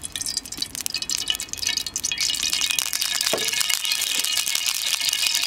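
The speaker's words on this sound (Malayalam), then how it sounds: "ഞാൻ കുറച്ച് ഓയിലൊഴിക്കുന്നു." Cooking oil poured into a pan for a chutney masala starts with light clinks and rattles, then settles into a steady, close hiss that holds to the end.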